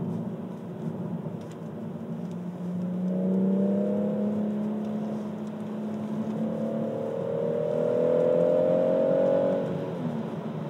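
BMW M140i pulling hard in Sports Plus mode on a dry road, its engine note rising in two long sweeps from inside the cabin, loud and steady with no talk.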